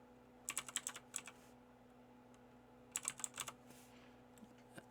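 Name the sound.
typing an email address on a computer keyboard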